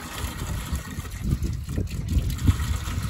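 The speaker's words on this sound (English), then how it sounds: "And now we're filling that up again. And we're filling up this water for the bulls." Windmill-pumped water pours steadily into a stock tank for bulls, a continuous low gushing and splashing with no talk over it.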